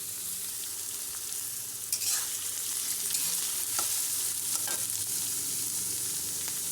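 Onions fry in hot oil for a meal maker curry, a dense close sizzle that holds steady the whole time, with a few soft stirring scrapes and no talking.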